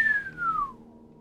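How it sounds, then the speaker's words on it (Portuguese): A single descending whistle glides downward and trails off, faint and alone, as a person whistles in a quiet reading. "O coronel assobiou."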